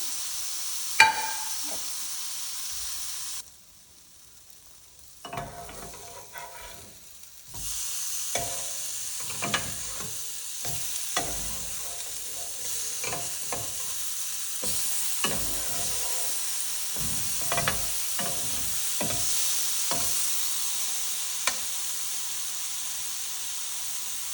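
Brinjal (vankaya) pieces sizzle steadily on a hot tawa for a viral vankaya karam tawa fry, a bright continuous fry hiss with scattered stirring clicks and a brief quieter dip early on, no voices.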